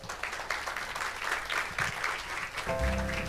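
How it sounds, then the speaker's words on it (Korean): Audience clapping fills a conference hall at a social innovation event as panelists are invited onto the stage, a steady wash of applause that runs throughout and swells slightly near the end. "여러분 큰 박수 부탁드립니다."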